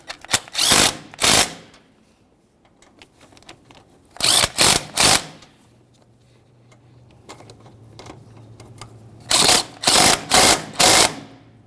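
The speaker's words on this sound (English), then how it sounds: "It's time to start tightening the top mounting nuts." A power tool tightens strut top mounting nuts on a 2003-2011 Mercury Grand Marquis in three clusters of rapid, loud bursts, each a few pulses long, separated by quiet pauses with a faint low hum.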